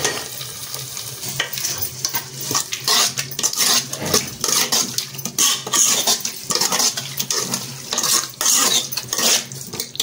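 A spoon stirs and scrapes through bottle gourd curry in a metal pot, producing steady, busy clinking and scraping strokes under a soft sizzle, close and fairly loud, with no talking.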